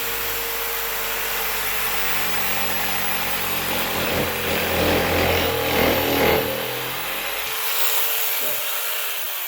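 A handheld jigsaw cutting a workpiece gives a steady, buzzing motor drone with a rattling blade. The cut stays fairly loud throughout, rises briefly, then the saw winds down near the end.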